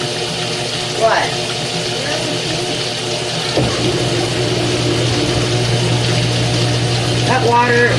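A loaner washing machine runs its Quick Wash rinse, with cold water pouring and sloshing in a steady hum while voices talk over it.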